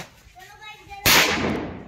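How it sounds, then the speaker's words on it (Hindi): A single loud bang from a Bullet Diamond firecracker bomb bursts out after a brief quiet moment with a faint tone, then rings and fades over the next second. "फोड़ रहे आप बुलेट डायमंड बॉम्ब, इसका धमाका देखते हैं।"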